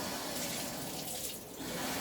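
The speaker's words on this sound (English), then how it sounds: "Now, done that, add water." Water runs steadily into a home-brew beer fermenter, a continuous broadband rush with a slight dip in the middle, close and fairly loud, with no talking.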